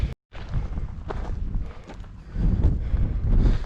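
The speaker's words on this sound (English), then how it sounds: "Really is quite windy." Gusty wind buffets a microphone on a hilltop in the Lake District, a steady rumbling roar that swells louder toward the end, with a brief dropout near the start and possible footsteps beneath.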